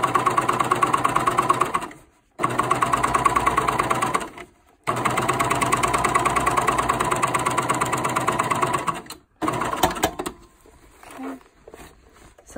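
A coverstitch machine sews along a fabric edge in close, loud bursts of rapid rhythmic needle chatter, pausing briefly twice between runs, then stopping as light handling noises follow.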